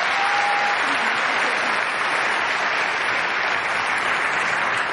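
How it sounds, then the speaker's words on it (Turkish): A large crowd at a music awards ceremony gives a singer dense, continuous applause, loud and even throughout, with no speech on top. "Kocaman alkış istiyorum onun için."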